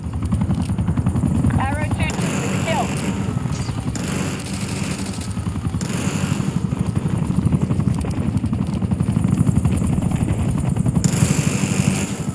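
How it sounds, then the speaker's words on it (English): A helicopter hovers overhead in the first-person shooter Black Ops 6, its rotor a steady, loud drone throughout, with bursts of gunfire and battle noise layered on top. "Established watchdog helo on station above."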